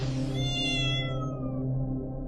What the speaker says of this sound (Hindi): अरे माँ, ये तो बिल्ली थी।